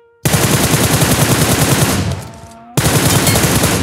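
Rapid automatic gunfire from a PUBG training ground, fired to test a red dot sight: a loud, dense burst of shots that breaks off for a moment, then resumes just as intensely.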